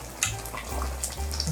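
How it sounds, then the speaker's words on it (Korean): Kimchi broth bubbles and splatters in a deep pot, a brief burst of crackling, sizzling cooking noise with low bubbling underneath. "국물이 팍팍 튀어올라요."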